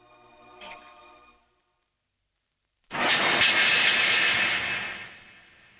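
After a brief faint tone and a moment of silence, a loud broad roar swells in and holds steady, like a jet passing close overhead.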